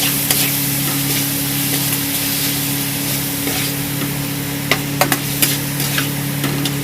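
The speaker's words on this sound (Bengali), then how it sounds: "দেখুন আমি ভালো করে নাড়িয়ে নিয়েছি।" Potatoes in tomato sauce fry in a pan with a steady close sizzle and a background hum, while a few sharp utensil clicks near the end mark stirring.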